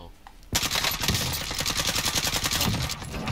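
Automatic gunfire in Call of Duty Warzone, a sudden loud burst of rapid rhythmic shots running continuously for about three seconds after a brief quiet start.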